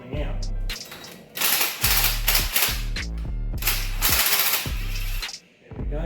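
A nut being screwed in and out on a Morris engine during a strip-down, with a rapid, loud ratcheting clatter in repeated bursts across the whole stretch, broken by brief pauses.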